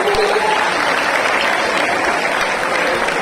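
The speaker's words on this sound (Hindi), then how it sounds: "जोरदार तालियां" Loud, sustained applause from a large crowd fills the whole stretch as a dense, even wash of clapping with no break.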